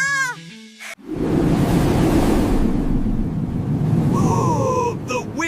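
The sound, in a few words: wind blowing from high-speed fan in animation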